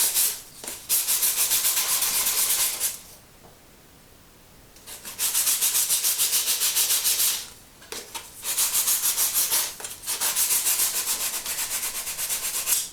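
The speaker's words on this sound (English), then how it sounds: "I sandpaper the sides of them as well" Handmade pottery throwing sticks being sandpapered along their sides, a steady close rasping scrape in long strokes broken by a few short pauses.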